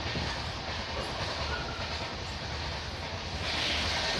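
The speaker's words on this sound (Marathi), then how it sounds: "ट्रेन ही आता सुरतच्या दिशेने निघालेली आहे." Steady rumble and rattling hiss of a passenger train travelling overnight toward Surat, heard from inside the carriage, continuous and fairly loud with no talk.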